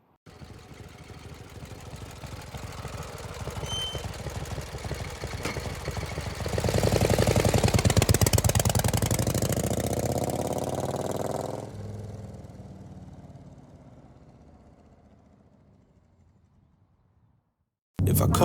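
A Harley-Davidson Street Glide motorcycle engine runs nearby at a steady idle, swells to a louder rev midway, then fades away to near silence before a sudden loud burst at the very end.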